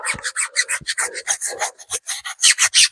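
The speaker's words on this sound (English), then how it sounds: "Get it right out around that tyre wall and give it a good scrub." A stiff-bristled brush scrubs hard around a car wheel and tyre wall. Rapid, loud, close back-and-forth rasping strokes repeat in an even rhythm, with no voices.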